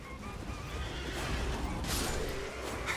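Torrent, the spectral horse in the video game Elden Ring, gives a faint, short whinny over a steady, low game ambience, with a soft crash near the end.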